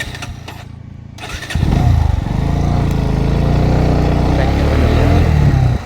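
A motorcycle is started: a short cranking burst, then a brief pause before the engine catches and settles into a loud, steady idle up close.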